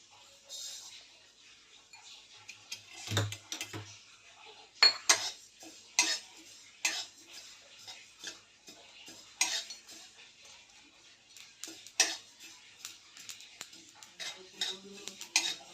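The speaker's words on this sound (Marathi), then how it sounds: "त्यानंतर आपण तीळ भाजून घेऊयात" Sesame seeds roasting in a pan while being stirred: quiet, intermittent scrapes and light metallic clinks of a utensil against the pan, irregular and close.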